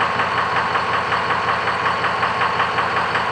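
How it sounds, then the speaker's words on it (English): A Ford F350 truck engine idles steadily after a starter replacement, an even, close mechanical rumble with a fast regular ticking pulse and no talk over it. "Just gonna let it idle for a bit and make sure everything's good."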